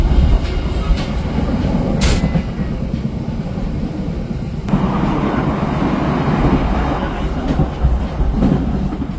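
Steady rumble of the KA Airlangga passenger train running on the tracks, broad noisy roar with light clatter and a brief hiss, the pace easing as it slows before arriving at a station.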